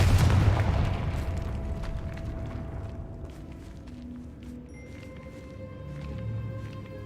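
A Confringo fire spell explodes in Hogwarts Legacy with a loud boom at the start that fades into a low rumbling tail and ambient game music.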